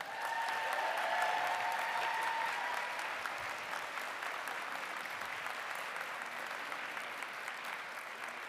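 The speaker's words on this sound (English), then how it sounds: "join me in giving a round of applause to your family" A large commencement crowd applauds families and loved ones at an art and design college graduation, a dense, sustained wash of clapping that begins strongest and slowly eases to a softer, even level.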